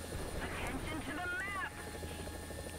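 Helicopter rotor and engine drone from War Thunder gameplay, a steady continuous hum beneath someone speaking.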